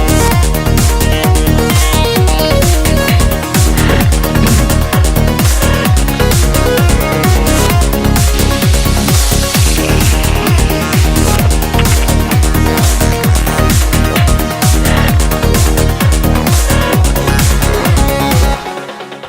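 A loud, dense psytrance break with driving beats and swirling synth textures heavily processed by Polyverse plugins, continuous until an abrupt stop at the end.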